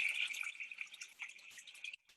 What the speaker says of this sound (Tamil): வாஷிங் மிஷின் தண்ணி, சோப்பு தண்ணி வந்து உழுதுங்க